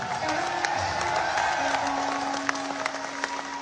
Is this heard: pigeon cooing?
no